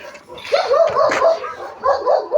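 Several dogs bark and yip in quick, overlapping bursts, close by and fairly loud, with a whiny edge to some of the calls.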